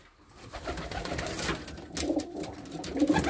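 Pigeons coo softly in low, throaty bursts, a few birds close by with faint rustling between calls.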